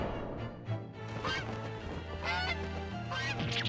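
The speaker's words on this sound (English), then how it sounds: "Here comes a terrible goose." Goose honks in the courtroom video game The Great Ace Attorney Chronicles, several loud nasal honks in an irregular series over game music.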